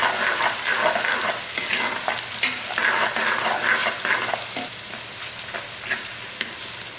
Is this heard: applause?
no